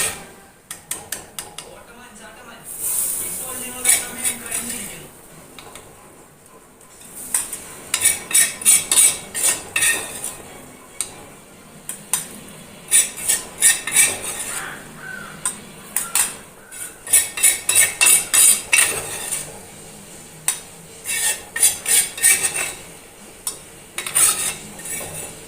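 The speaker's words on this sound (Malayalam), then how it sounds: "ഇനി നമുക്കിത് മിക്സിയുടെ ജാറിലോട്ട് ഇട്ട് കൊടുക്കണം." A spoon clatters and scrapes against a mixer grinder jar as a brinjal theeyal mixture is spooned in, in bursts of rapid metallic clinks between short pauses, close and fairly loud with no speech.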